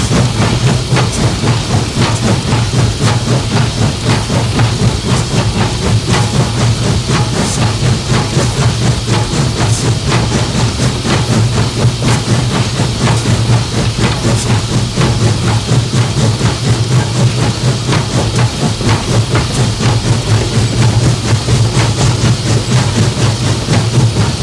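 A big Baldwin steam locomotive runs steadily as heard from inside the cab, with a loud, continuous roar of hissing steam, rumble and rhythmic clatter that holds for the whole stretch with no voices.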